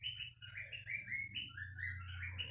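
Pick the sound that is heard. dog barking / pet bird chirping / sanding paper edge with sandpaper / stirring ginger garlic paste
pet bird chirping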